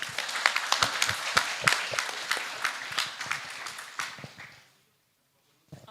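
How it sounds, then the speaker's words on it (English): Dense audience applause for three panel speakers at a conference opening ceremony, steady and moderately loud before tapering off to silence, with one faint clap at the very end. "Can we give one more applause for them?"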